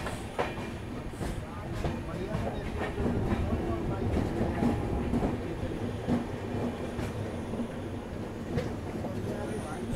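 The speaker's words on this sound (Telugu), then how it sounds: "జనగాం నుంచి అయితే డిపార్ట్ అయింది మన దక్షిణ్ ఎక్స్ప్రెస్." Dakshin SF Express passenger train rolling along after leaving Jangaon at night, a steady rumble with faint rhythmic clatter heard from inside the coach, continuous for the whole stretch.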